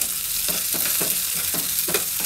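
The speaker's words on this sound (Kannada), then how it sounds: "ಹುರುಳಿಕಾಯಿನ ಮಾತ್ರ ಎಣ್ಣೆಯಲ್ಲಿ ಸ್ವಲ್ಪ ಬಾಡಿಸ್ತೀನಿ" Green beans sauté in hot oil in a pan, a constant close sizzle broken by regular scraping stirs about every half second, with no talk.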